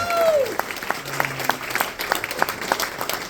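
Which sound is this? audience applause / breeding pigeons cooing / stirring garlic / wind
audience applause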